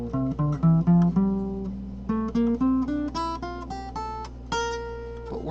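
A guitar plays a diatonic scale starting from D, single notes plucked one by one in a steady run up the neck, clear and close, with no talk.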